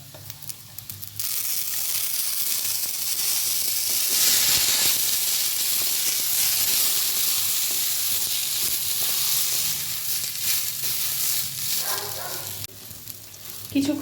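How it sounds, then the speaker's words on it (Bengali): Rice is tipped into lightly fried lentils in a hot pan for vegetable khichdi, raising a loud, continuous hissing sizzle that holds steady, then eases near the end. "ডালটা ভাজা হয়ে গেছে, খুব বেশি কড়া করে আমি ভাজিনি। এবার দেবো চাল।"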